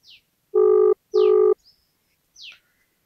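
Telephone ringback tone while a call connects: two loud, buzzy, steady tone bursts of about half a second each, separated by a short gap, with brief high chirp-like sweeps before, between and after.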